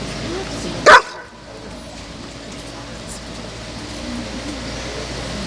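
A trained sniffer dog on the job at a dog handler's demonstration for children gives a single sharp bark on command, then quiet background remains.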